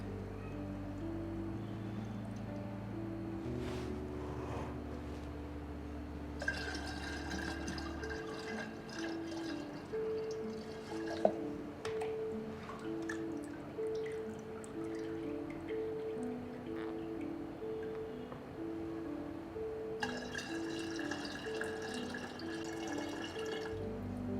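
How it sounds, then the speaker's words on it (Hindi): Cow urine poured from a container into a clay pot (ghada), a steady liquid trickle and pour with drips, close and moderately loud, no talk. "सबसे पहले जो गौमूत्र है इसको हम अभी घड़े के अंदर डालेंगे।"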